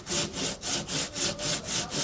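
A hand saw cuts through a Litepanel construction panel at a new house build in the Philippines, its rasping strokes steady and rhythmic, about seven close back-and-forth pulls with no talking.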